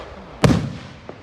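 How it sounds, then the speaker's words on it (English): At a fireworks display at Niagara Active Hose Co., one firework explodes in a single loud, booming burst that decays quickly, followed by a fainter pop moments later. "Oh, Fireworks."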